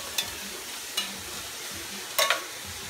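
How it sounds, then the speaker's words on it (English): Carrot stirred in a hot pan while cooking for spring rolls and Thai lettuce wraps, a steady low sizzle broken by a few sharp scrapes of a utensil against the pan. "Throw that in there. Mix that up. And we're gonna let that cook for a few minutes."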